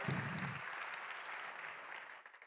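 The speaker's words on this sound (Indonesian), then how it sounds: "Tepuk tangan buat teman-teman di Bandung Pak." An audience at a motivational seminar breaks into applause, a steady wash of many hands clapping that tapers off toward the end, with a brief voice at the start.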